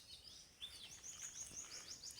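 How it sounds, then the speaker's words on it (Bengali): Faint, distant bird chirps and short twittering calls drift from dense forest beside a tea garden, thin and scattered over a quiet background. "পাখির কিচিরমিচির আওয়াজ"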